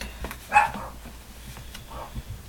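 A dog barks once sharply, fairly close, followed by a softer bark a moment later in a quiet room.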